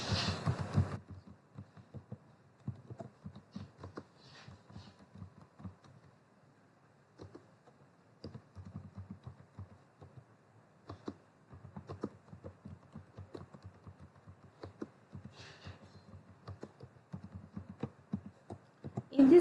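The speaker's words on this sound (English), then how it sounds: "Type Python here and press enter. I am writing statement here." Typing on a computer keyboard at a command prompt: soft, close key taps come in irregular bursts separated by pauses, fairly quiet throughout with no talking.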